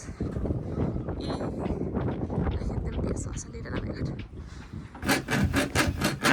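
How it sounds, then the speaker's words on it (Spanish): A rusted screw on a newly bought sailboat is being cut, with rough rubbing, sawing strokes throughout and a burst of faster rasping at the end, heard up close over outdoor wind noise. "Ahí Cris está cortando un tornillo que está oxidado"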